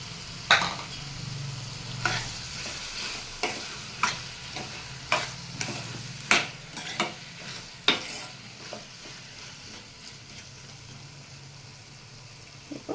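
A tomato and cucumber curry is stirred in a pan. A spoon knocks and scrapes against the pan about ten times in a steady rhythm over a soft sizzle, close by and with no talking.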